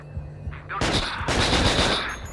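Assault rifle gunfire in the PS2 video game Monkeyhunt: a brief quieter lead-in gives way to a loud, sustained rapid burst that continues to the end.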